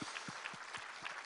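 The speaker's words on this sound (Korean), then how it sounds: "우리 하나님께 감사와 영광의 박수를 드리겠습니다" A church congregation at a Korean early-morning service claps together, a moderate, fairly even patter of many hands at a modest level.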